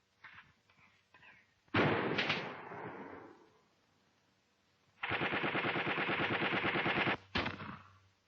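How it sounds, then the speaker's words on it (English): Gunfire from a military training film of a platoon attack: a loud single crack with a decaying echo, then a sustained rapid burst of automatic fire lasting about two seconds, followed by one more sharp shot, heard alone at a distance. "He is firing at any movement that he can see."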